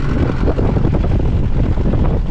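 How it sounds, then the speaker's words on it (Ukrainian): Steady, loud wind of about 5 to 7 metres per second roaring and buffeting close to the microphone at a reservoir in November, a continuous low rumble with gusty fluctuations throughout. "Вітер, як бачите, підсилюється"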